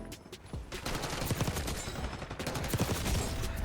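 Dense, continuous SMG fire in Black Ops 6, a rapid stream of shots filling the whole stretch with little pause, loud and close.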